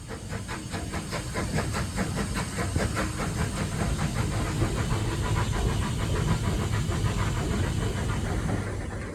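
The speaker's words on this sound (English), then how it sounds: "And it may be a steam engine, but a clean working environment is still maintained." A running model live steam locomotive hisses steadily and loudly, with a fast rhythmic chuffing pulse under the constant steam noise and no talking.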